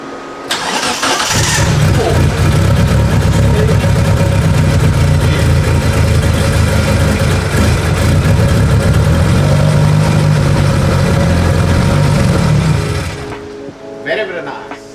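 A turbocharged Satria with a 4G93 engine cranks and starts, then settles into a loud, steady idle that runs for about twelve seconds before cutting off, close to the microphone with a brief exclamation.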